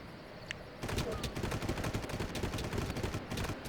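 Gunfire in the shooter game Far Cry 1 erupts after a quiet second as a rapid, loud burst of repeated shots that keeps going to the end.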